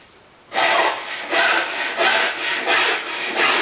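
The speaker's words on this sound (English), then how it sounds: "Now I'm going to have to make about 10 passes around each side of this drum before an angle gets made that looks a bit more like a bearing edge." A Ludwig drum shell's bearing edge is worked by hand, giving loud, steady rasping strokes of tool against wood, about six even passes with brief dips between them, close up and alone.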